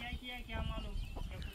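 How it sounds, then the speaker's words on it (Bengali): Chickens cluck faintly at a hillside rest stop on a trek to Devkund waterfall in the Tamini Ghat, Maharashtra, with a few short calls heard among quiet outdoor noise and voices. "এখানে কত দেখো মুরগি"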